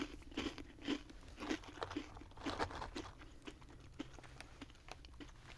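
Crisp, close crunching of chocolate cream filled cereal puffs being chewed, a quiet series of irregular bites and crunches with no talking.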